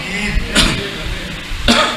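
Two coughs about a second apart, close by and fairly sharp, over a low background murmur.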